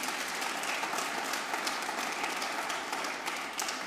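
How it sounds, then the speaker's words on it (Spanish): Church congregation applauding during a Spanish-language sermon: steady, dense clapping from a sizeable crowd, moderately distant and filling the whole clip with no voices over it. "Dele un aplauso al Señor"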